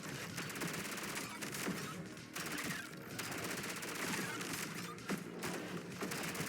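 Rapid bursts from an ice SMG in the video game ODDCORE rattle almost continuously, with short pauses between strings of shots.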